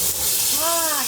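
One and a half liters of water is poured into a hot pot for a Greek dish, giving a loud, continuous broadband hiss of steam, with a voice briefly speaking over it.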